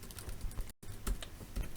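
Rapid clicking keystrokes on a computer keyboard while coding, a dense run of taps with one brief gap, close and without talk.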